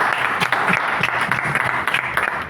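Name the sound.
audience applause for the MCs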